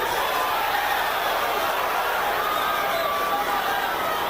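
A boxing arena crowd cheers for Griffin, a broad steady roar of many voices that stays loud and unbroken throughout.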